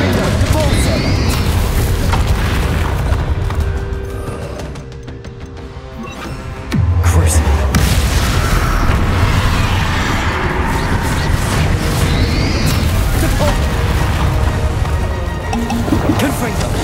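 Bombarda and Confringo spell blasts in the Hogwarts Legacy video game, loud booming impacts and crackling bursts over a dense game mix with a brief dip and swell in the middle, with a voice talking.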